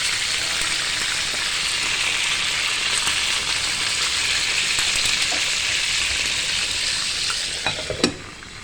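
Fish frying in a pan for lunch, a loud continuous close sizzle like steady rain that holds throughout, ending with a couple of sharp clinks.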